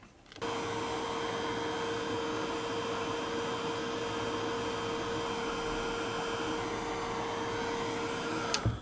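A handheld hair dryer blows steadily to dry ink on an altered vintage craft box, a loud continuous whirring hum with a fixed whine that runs unbroken for several seconds before cutting off.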